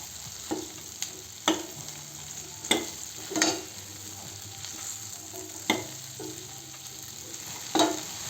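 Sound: okra stirred into fried onions and tomatoes in pan

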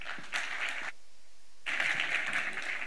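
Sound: audience applause welcoming a speaker

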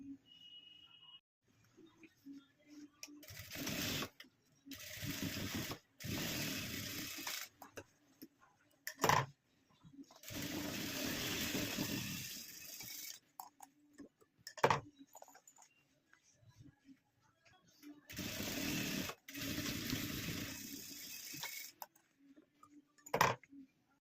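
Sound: sewing machine stitching the corners of a zip pouch

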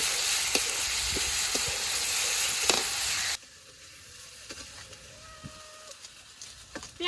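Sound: garlic frying in a pan

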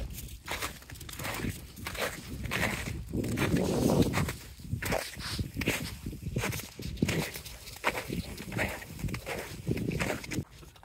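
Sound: footsteps walking

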